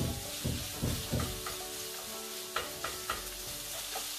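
Sausage browning in a pan on the stove while being chopped and broken up, a steady sizzle of fat frying with several sharp scraping knocks of the utensil against the pan, close and clear, with no talk.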